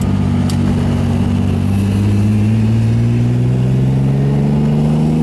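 A Ferrari Testarossa convertible, a custom Miami Vice replica, driving uphill: a loud, close engine drone with strong steady tones that climb slowly in pitch after a downshift.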